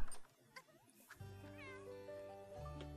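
A cat in The Sims 4 video game meows several times, drawn-out and tonal, with brief talk at the start before the calls rise clearly and fairly loud on their own.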